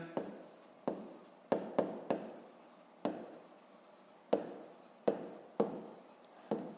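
A pen scratches out a fifth-grade maths exercise by hand on paper, close and quiet, in about a dozen separate strokes and short scribbles with brief pauses between them.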